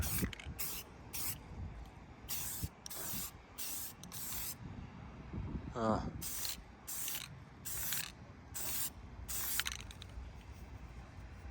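Short bursts of spray paint hiss out from a can outdoors in a steady stop-start rhythm, painting a server, with wind rumbling and faint mechanical clicks underneath.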